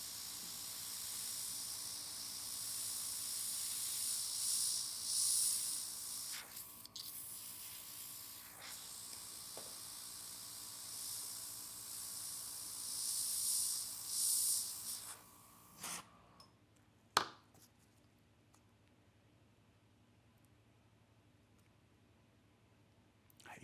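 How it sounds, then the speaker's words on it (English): An airbrush sprays nail paint onto a French stencil at a nail workshop, giving a steady soft hiss in bursts that stops partway, followed by a few faint clicks and quiet room noise. "Again, I'm spraying on the stencil."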